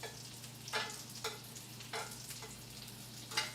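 Potatoes frying in a pan, with a steady low sizzle under a few sharp scraping and clattering hits as the pieces are flipped one by one, close and moderately quiet.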